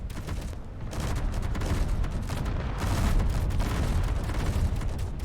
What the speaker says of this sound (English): my custom turrets are firing